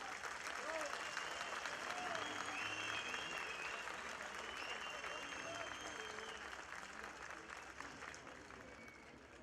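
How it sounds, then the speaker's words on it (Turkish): Galatasaray football fans in a stadium crowd applaud in a broad, sustained wash of clapping heard from a distance, with crowd noise and a voice underneath. "sizden çok büyük bir alkış karşı taraftan duyulsun"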